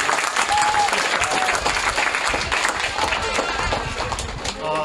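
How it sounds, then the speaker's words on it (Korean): Congregation at an outdoor Sunday worship service applauds loudly in a dense, continuous burst, with voices mixed in among the clapping. "우리 박수 한번 할까요?"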